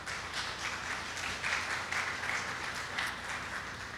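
A church congregation claps in praise during a Spanish-language sermon, a steady dense round of applause with slight swells, moderately loud and without talk.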